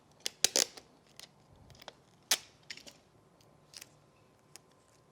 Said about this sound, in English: You can cut off the extra tape so it doesn't come out in your shadows.